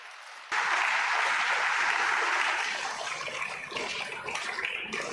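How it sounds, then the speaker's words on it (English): At a church pastoral anniversary service, a burst of applause starts suddenly and continues as steady clapping from the congregation, easing slightly toward the end. "Clap for him."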